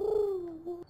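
A pigeon or turtle dove gives one drawn-out, low cooing call, close and clear, with no other sounds around it.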